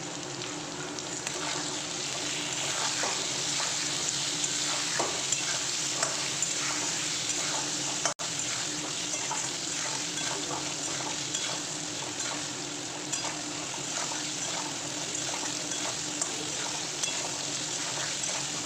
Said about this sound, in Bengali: নুন আর হলুদ দিয়ে তো এখন আমি ভালো করে আবারও ভেজে নেব আলুটা